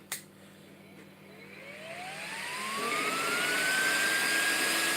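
Car cooling fan rated at 22,000 rpm switched on and spinning up: a short click, then a rising whine climbing in pitch over several seconds into a loud, steady high-speed rushing whir, close by, no talking.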